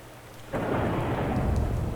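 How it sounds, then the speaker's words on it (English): Thunder and rain in a video game in development: after a quiet moment, a heavy rumble of thunder breaks in and steady rainfall follows, loud and continuous, with no voices over it. "Oh, it's raining."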